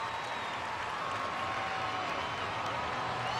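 Monster Jam stadium crowd cheering at a freestyle show in Atlanta, a dense, steady roar of many voices and applause, faint and distant, with a whistle-like tone rising over it.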